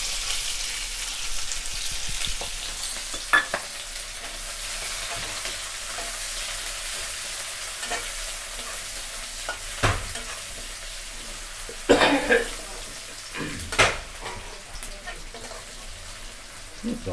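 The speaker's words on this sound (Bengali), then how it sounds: "পেঁয়াজটা আমরা এরকম হালকা করে লাল করে ভেজে নেব।" Sliced large onions fry with a steady low sizzle in a pan for chili chicken, broken by a few louder scrapes and clatters of stirring near the end.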